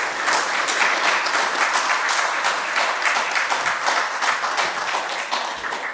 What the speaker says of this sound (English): So please give a warm applause for Max and Markus.